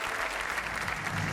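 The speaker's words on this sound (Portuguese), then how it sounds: "não é abraço, mas é um aplauso para a Carla" Studio audience of a television game show applauding a departing contestant, a continuous, even patter of many hands clapping at moderate level.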